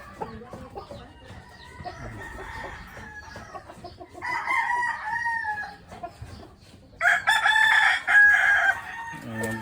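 Large Rhode Island Gray chickens cluck nearby, and a rooster lets out two loud, drawn-out crows, one partway through and a stronger one near the end, over low background noise with no speech.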